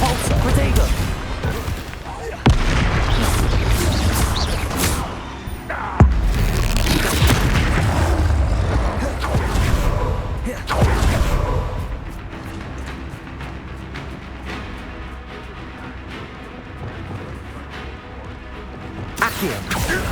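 Hogwarts Legacy video game combat with spell blasts, explosions and heavy impacts, dense booming crashes in the first half easing to quieter battle sounds, while a voice calls out spell names over them.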